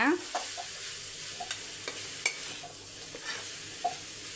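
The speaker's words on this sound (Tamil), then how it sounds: "நம்மளுக்கு இந்த சைடு வாழைக்காவும் குடமிளகாவும் நல்லா ரோஸ்ட் ஆகி வருது." Raw banana and capsicum roast in a pan with a steady, soft sizzle, broken by scattered light scrapes and taps of a spoon stirring.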